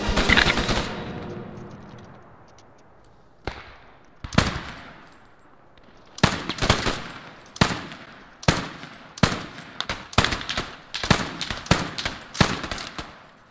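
Gunfire from a Sten submachine gun and a G41 rifle in a multiplayer shooter game: a long fading burst, then isolated shots, then a steady run of sharp single cracks, close and loud, with no talk.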